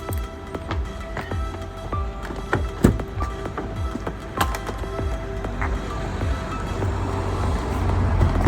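Heard from inside a car, a series of sharp, irregular clicks and knocks gives way to a low engine rumble that swells steadily louder as the ride gets under way.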